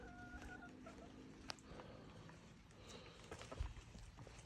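Hens clucking softly outdoors after heavy overnight rain, a faint scattered chatter of several birds with occasional louder calls over low background noise.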